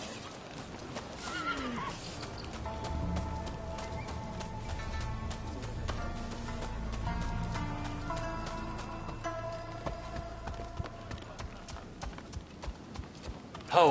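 Horses in Rise of the Ronin clip-clop steadily with a neigh and whinny, hooves and animal calls close by over a busy game-world backdrop, no talk.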